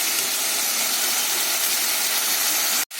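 Bottle gourd cooks in a pan as its water boils off, giving a steady broadband sizzle and hiss that runs unbroken before a brief drop-out at the end.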